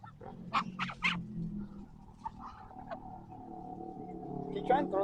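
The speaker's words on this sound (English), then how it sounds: "Come on, ducks." Ducks near water give several loud honks and quacks, some in quick clusters, while people talk nearby and a steady low hum runs underneath.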